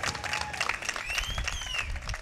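An audience at a public event in Aurora claps together in a dense, steady round of applause, with faint voices and whistles mixed in.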